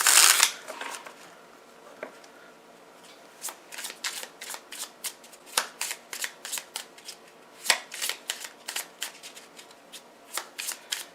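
Tarot cards are shuffled by hand in a steady run of crisp riffling and flicking taps, close and clear, with a louder rustle at the start and no talk.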